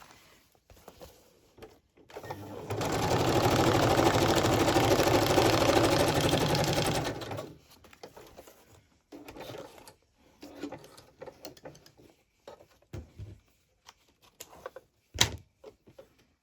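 A sewing machine runs a straight stitch on a journal trifold in one steady burst of about five seconds, followed by quieter handling clicks and rustles.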